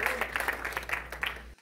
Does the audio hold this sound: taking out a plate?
no